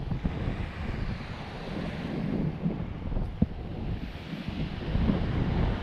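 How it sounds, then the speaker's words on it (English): Gusty wind buffets the microphone at night by a sea wall while fishing, in a rough, continuous low roar, rising and falling, with one sharp knock partway through. "I'm going to say just the wind at the moment because it is windy."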